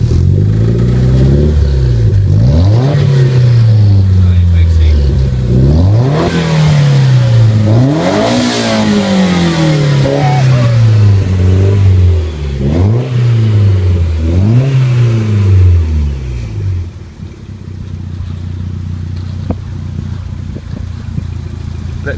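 A Toyota MR2 Turbo engine revved repeatedly in a garage during an oil change, loud close-up blips rising and falling in a steady rhythm about every two seconds before settling to a lower idle.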